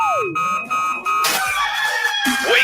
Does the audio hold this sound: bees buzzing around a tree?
no